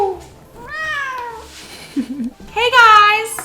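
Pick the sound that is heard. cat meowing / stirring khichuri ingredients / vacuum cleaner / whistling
cat meowing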